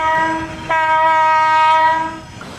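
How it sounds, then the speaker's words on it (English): Loud, sustained metallic screech of retarder brake shoes pressing on freight car wheels in a railroad hump yard, a steady piercing squeal that jumps in intensity partway through and then fades away. "That loud screeching you hear is the brake shoes of the retarder pressing against the metal wheels"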